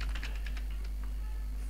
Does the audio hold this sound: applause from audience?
no